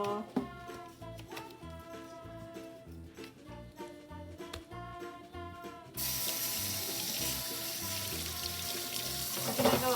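Water runs from a tap into a sink as freshly picked potatoes are washed, a steady hiss starting partway through after a stretch of background music and lasting to the end.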